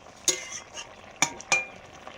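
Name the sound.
chicken meat being slowly sautéed in a covered pot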